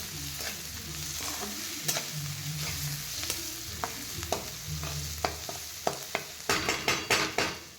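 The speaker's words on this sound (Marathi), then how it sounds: "त्याच्यात परतायचा कांदा" Onion sautéing in a pan, a gentle steady sizzle with intermittent spoon scrapes and taps on the pan, growing quicker and more frequent toward the end, quiet and close.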